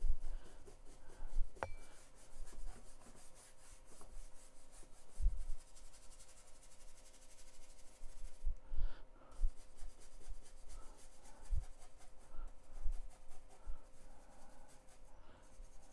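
A brush scrubs oil pastel thinned with turpentine on a painting surface, a steady close scratchy rubbing that runs continuously with small irregular pulses of strokes.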